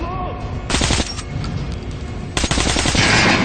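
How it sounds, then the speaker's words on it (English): Bursts of automatic rifle fire at a training dummy on a shooting range in the Metro: Last Light Redux video game, two loud sustained volleys separated by a short pause, close and sharp. "Try shooting for the center of the regular dummy's chest."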